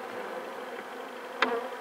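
Honey bees buzz at an apiary during hive work, a soft, steady insect drone heard close, with a brief louder burst as one flies past the microphone.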